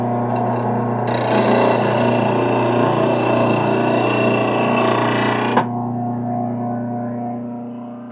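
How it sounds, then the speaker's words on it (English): A power grinder works steadily on a lawn mower blade, a loud continuous abrasive whine and rumble with no pauses that cuts off sharply, leaving a lower motor hum winding down. "So let's grind off a little bit on this side right here, and let's see if we can get that thing to angle more level."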